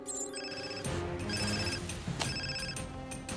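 A tinny electronic phone ringtone from a sound keychain plays in repeated bursts, thin and slightly distorted, like a small toy speaker, with no talking.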